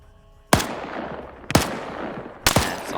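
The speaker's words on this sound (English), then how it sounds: "You still got this guy over here firing at him" Three loud, sharp gunshots from a video game shootout, spaced about a second apart, each with a long echoing tail, close and alone without talk.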